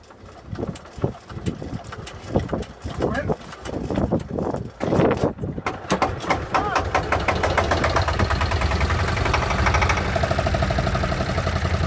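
An old Sabb 10hp boat engine cranks with sputtering bursts, then catches and settles into a steady, loud idle with a rhythmic chug; voices are heard early on.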